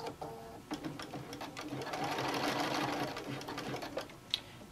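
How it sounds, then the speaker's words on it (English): A sewing machine runs a zigzag stitch along the end of a knit headband, a continuous close whirring buzz that speeds up and slows down with a few clicks and stops. "Another zigzag stitch all along the end here."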